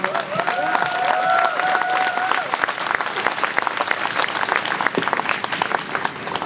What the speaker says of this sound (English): Let's give him a round of applause to show our support.